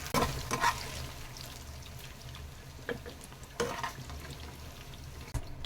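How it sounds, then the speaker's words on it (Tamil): Green banana slices frying in hot oil for a South Indian vazhaikai varuval, with a steady low sizzle and a few scraping stirs and clinks as the slices are turned, no talking. "ஒரே மாதிரி பெரட்டி விட்டிங்கன்னா எல்லா வாழைக்காயும் ஒன்று போல் வறுபட்டு வருங்க"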